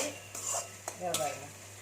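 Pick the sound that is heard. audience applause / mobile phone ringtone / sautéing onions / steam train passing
sautéing onions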